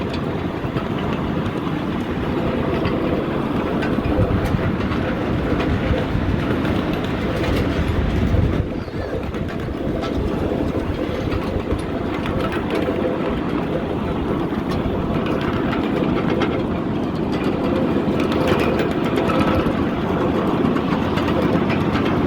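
Continuous rumbling of a moving train at a railroad park near Phoenix, Arizona, a steady loud roar with faint rattling, heard from inside without voices.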